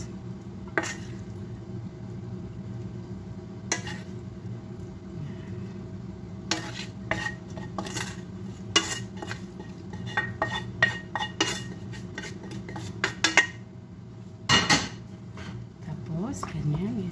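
Ground meat spread and pressed into a pan with a utensil for a macaroni casserole, giving repeated clinks and scrapes of metal on the pan over a low steady hum, while someone talks throughout.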